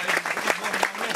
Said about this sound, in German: Applaus, ja.